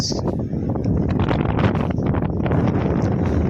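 Strong wind roars and buffets the microphone in a continuous, loud rush at an iron ore mine in Sundargarh, Odisha, with no clear voices over it.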